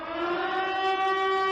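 Siren sounding at a CEG exam centre in Tchaourou, Benin, a steady loud wailing tone held without a break, slightly rising in pitch.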